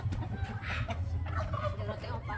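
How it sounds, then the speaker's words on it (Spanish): Several chickens cluck and squawk close by over a steady low rumble, with busy, overlapping calls throughout. "Esas son gallinas"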